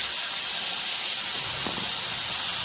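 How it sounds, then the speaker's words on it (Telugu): Green chillies and curry leaves fry in hot oil with a continuous close, bright sizzling hiss, steady throughout with a faint soft clatter around the middle; no talking. "ఈ రెండు నూనెలో మంచిగా ఫ్రై చేసుకోవాలి"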